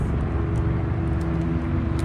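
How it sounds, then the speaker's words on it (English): A loud, steady low rumble with a rapid chopping pulse fills the air, like a helicopter passing close overhead, with no talking. "Oh man, helicopters."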